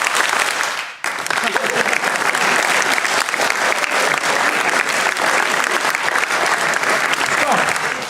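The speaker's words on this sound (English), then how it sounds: "Clap. Stop. Clap." An audience claps loudly and steadily on command, a dense continuous wash of applause that cuts off sharply for a brief stop near the start, then resumes at full strength and continues to the end.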